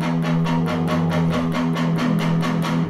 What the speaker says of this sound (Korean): 이게 바로 뮤트에 의한 소리입니다.